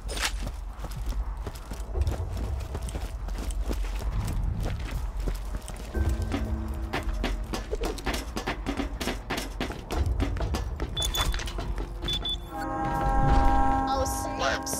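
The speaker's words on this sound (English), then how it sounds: "I hear the train coming!" A train approaches in the video game Borderlands 2, rumbling steadily under game noise and other sounds, with sustained horn-like tones rising near the end.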